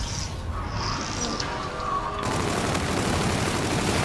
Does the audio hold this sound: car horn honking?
no